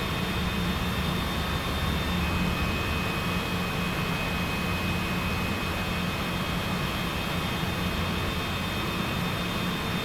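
A steady, loud broadband jet engine roar fills a passenger airliner cabin as the plane taxis down a runway on a Seattle to Alaska flight, with no speech and no change in intensity throughout.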